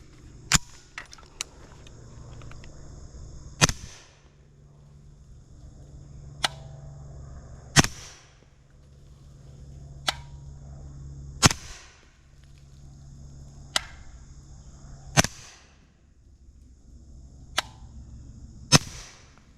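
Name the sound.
suppressed B&T GHM9-SD 9mm gunshots, 124 grain ammunition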